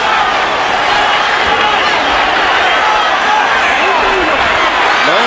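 A boxing arena crowd at the Pacquiao vs Marquez rematch roars steadily, a dense wash of cheering and noise from thousands on their feet, with a commentator's voice running underneath.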